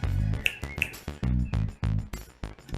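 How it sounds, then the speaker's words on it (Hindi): Finger snapping during a household scene, sharp crisp snaps in a quick uneven series, heard over a loud musical background with no talk. "ये चुटकी क्या बजा रही हो भाभी?"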